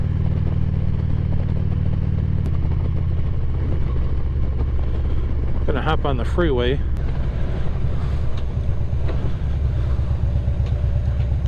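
A motorcycle engine drones steadily throughout with wind rushing past the microphone, a rider speaking briefly midway as the engine note rises.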